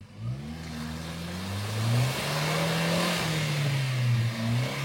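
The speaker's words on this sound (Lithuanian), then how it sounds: "Važiuok per tas provežas, jis negilės čia." Range Rover L322 moving slowly over rutted dirt track, its engine revving and labouring in a low, wavering drone with broadband rumble and wind-like noise, loud and continuous throughout, no talk.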